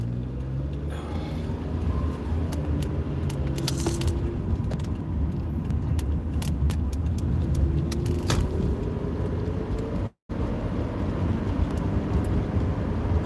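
A company car driving along the road, its steady engine and road rumble loud and continuous throughout, with a brief dropout near the end.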